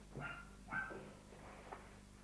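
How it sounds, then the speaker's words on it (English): A few small, yappy dog barks, somewhat distant and muffled, spaced out over a couple of seconds against a low steady hum. "little doggy barking"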